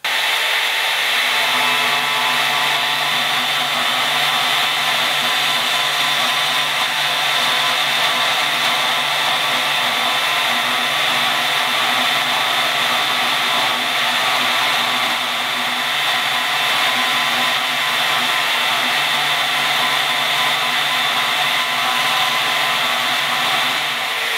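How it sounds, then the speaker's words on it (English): Power tool cutting a steel flint striker out of a blank: a steady, loud, unbroken high-pitched whine and grinding hum that holds evenly throughout, with no talking. "now we have our striker that we can go ahead and cut out"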